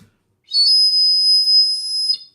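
A clear, high-pitched whistle blown through a Lego tube sounds once, steady for about a second and a half, then stops abruptly; the surroundings are otherwise silent.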